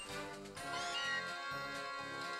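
A Meowth cry from the Pokémon Ultra Moon video game, a short rising, cat-like synthesized meow set against steady game background music.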